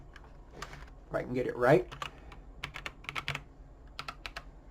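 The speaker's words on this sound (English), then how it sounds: "I'm going to go on ahead and type in my," Password keys tapped on a computer keyboard, a short run of crisp, quick clicks under a nearby voice speaking, with a busier burst of typing in the middle.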